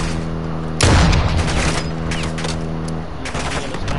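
Call of Duty DMZ firefight: a loud boom-like burst of gunfire followed by a rattling volley of shots and a few scattered cracks, close and heavy, with a faint voice underneath.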